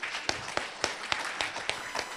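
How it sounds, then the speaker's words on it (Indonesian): A small audience at a school workshop claps for STI Indonesia, with sharp, fairly evenly spaced claps over a soft wash of applause, moderately close and without speech. "Tepuk tangan untuk STI Indonesia."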